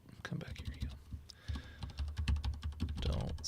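Computer keyboard keys clatter in rapid bursts while someone types a password during a live stream, with overlapping voices talking over the clicks.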